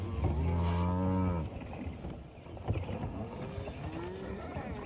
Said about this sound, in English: Moved the cows.